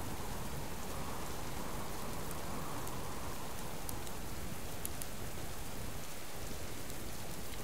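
Steady, dense rainfall in the video game Subsistence hisses continuously at a soft level, with occasional brighter drop ticks and no voices.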